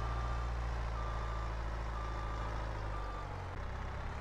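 A truck's reversing alarm beeps in a regular steady rhythm over a loud, constant diesel engine rumble in Farming Simulator 22, during a snowy winter cleanup on icy roads.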